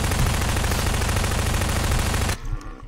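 Rapid automatic gunfire from a weapon in the video game Garry's Mod rattles continuously and loudly for over two seconds, then cuts off abruptly, leaving faint background game noise.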